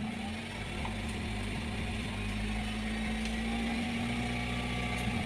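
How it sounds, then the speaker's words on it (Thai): A Honda Civic FD 1.8 engine runs steadily at a fairly low level, a smooth idle with a faint rise in revs and a constant mechanical hum. "เดี๋ยวเร่งเครื่องสักนิดนึง"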